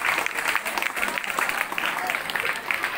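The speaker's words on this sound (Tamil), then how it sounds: "கைத்தட்டி உற்சாகப்படுத்து." Applause from a crowd at a government higher secondary school's annual sports day, greeting the results of a girls' 200-metre race; steady, dense clapping fills the whole stretch, with voices mixed in.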